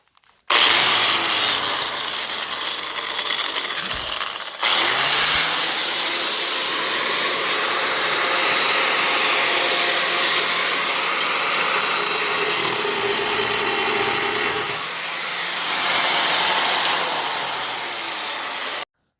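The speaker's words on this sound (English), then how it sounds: "I pre-drilled the holes using a metal drill bit." A loud, steady whirring drone of a power drill boring holes with a metal drill bit, running continuously, with a brief pause a few seconds in before boring on again.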